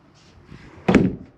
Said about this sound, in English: Make sure all your doors and drawers are closed.